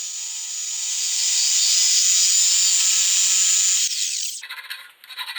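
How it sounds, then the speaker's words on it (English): A Sawzall reciprocating saw with a metal-cutting blade buzzes steadily through threaded 2-inch steel pipe, a bright high grinding rasp that holds for several seconds, then stutters and rattles as the cut finishes. "I'm using a metal cutting blade on my Sawzall"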